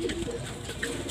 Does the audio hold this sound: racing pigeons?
yes